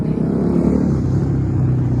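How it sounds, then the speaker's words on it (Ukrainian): A motorcycle rides past on a road, its engine a steady low rumble that stays loud and fairly near throughout, with no talking. "десь теж поїхав мотоцикліст"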